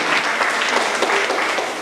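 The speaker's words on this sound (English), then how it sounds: "Everybody give him a round of applause, please." A brief, dense burst of audience applause for a speaker at a Moorish community gathering, loud and continuous with no talk over it.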